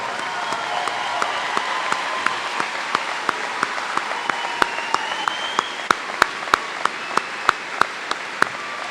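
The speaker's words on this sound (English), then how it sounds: "Graduates, give them a round of applause." A high school graduation audience in Coeur d'Alene applauds the class of 2019's parents and guardians, a steady broadband wash of clapping topped by a sharp, evenly spaced clap from one nearby pair of hands.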